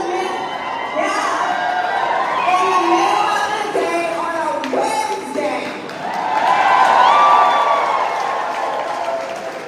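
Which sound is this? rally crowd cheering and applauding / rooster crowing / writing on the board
rally crowd cheering and applauding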